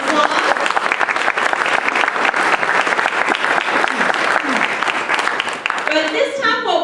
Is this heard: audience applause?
yes